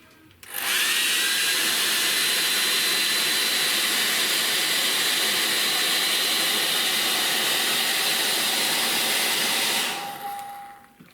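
A hairdryer blows steadily on wet acrylic paint on paper, starting abruptly, roaring loud and constant for about nine seconds, then cutting off.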